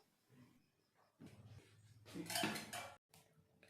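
Metal pressure cooker holding black lentils and water being set onto a gas stove, a few quiet clinks and scrapes of metal building to a louder clatter, then a brief pause and a soft final knock.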